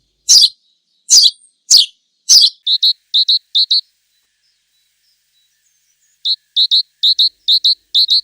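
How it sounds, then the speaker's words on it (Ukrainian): A great tit, a bird that stays through winter, gives three sharp chirps, then rapid bursts of short, high, repeated notes in two quick runs separated by a pause, heard clearly with no other sound. "Ну а це звичайна синичка."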